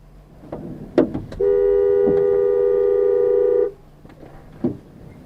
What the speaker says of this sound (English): No, the car behind me honked.